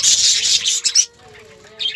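A pair of exhibition birds in a breeding colony gives bursts of loud, close, rapid chattering calls, a brief pause, then another burst at the end.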